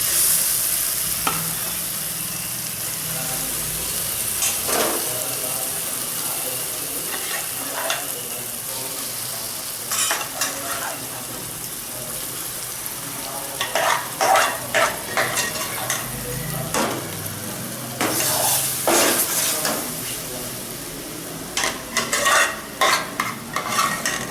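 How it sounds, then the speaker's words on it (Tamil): Boiled moong dal for Asoka halwa is stirred in a hot pan, a soft steady sizzle under repeated scraping and knocking of a spoon against the metal, with irregular bursts of clatter. "இனி இந்த வேக வச்ச பாசிப்பருப்பை இதில் போட்டுக்கணும்."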